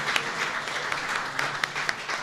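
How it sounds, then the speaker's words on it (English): A short burst of audience applause for honor flight veterans at a National Military Appreciation Month event, dense clapping with a few sharper nearby claps standing out. "How about a round of applause for these great guardians up here?"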